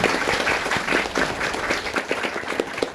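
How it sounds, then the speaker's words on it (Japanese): An audience applauds at the Deno Fest tech event in Akihabara, a lively burst of clapping from many hands that holds steady for a few seconds. "拍手お願いします。"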